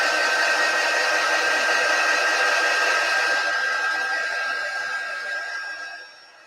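A handheld blow dryer blowing over chalk paste on a transfer, a steady close whirring rush that fades down and stops near the end.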